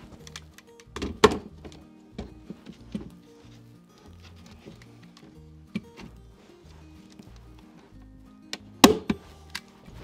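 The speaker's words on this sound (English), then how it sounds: "And just staple it in place." A staple gun fastens a bait lure onto a wooden swarm trap for honeybees, giving a few sharp, close thunks, the loudest near the start and again near the end, with small knocks and handling noise between.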